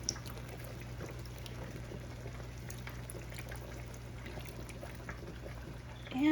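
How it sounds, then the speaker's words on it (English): A quarter cup of white vinegar is poured into a recipe while cooking Polish food in a home kitchen, a soft steady trickle over a low constant hum, with no talking. "So let's pour that in."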